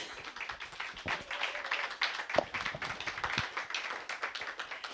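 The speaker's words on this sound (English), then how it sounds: "Please give her a round of applause" Audience at an African art forum claps for a curator being introduced, a fairly quiet, busy patter of many hands with a few sharper individual claps.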